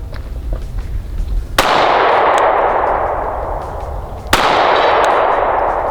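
Two loud, sharp Canik MC9 Prime pistol shots crack out a few seconds apart on an outdoor range, each with a long ringing decay, and no other sound between them.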